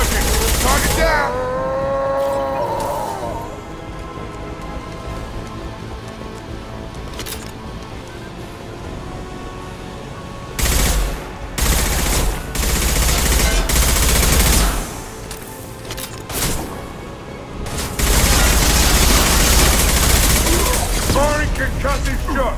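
Rapid gunfire and weapon blasts from a squad firefight in Mass Effect 2, sustained and loud throughout with bursts of heavier impacts, mixed with game voices and sound effects.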